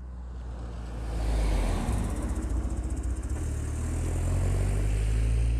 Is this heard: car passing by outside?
yes